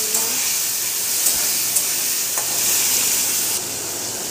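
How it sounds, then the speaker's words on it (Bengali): Potatoes and jackfruit seeds fry in a pan for a vegetarian Malabar spinach chorchori, giving a steady, close sizzle with a few light stirring clicks and no talking. "এই যে আলু, একটু ভাজা ভাজা হয়ে এসছে। এবার দিয়ে দেবো কাঁঠাল দানা"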